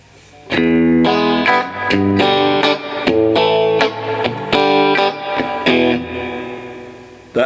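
A new Squier Stratocaster on the bridge and middle pickups plays clean through a Fender Deluxe amp with a touch of reverb, giving a sequence of bright, quacky strummed chords with clear attacks and ringing sustain.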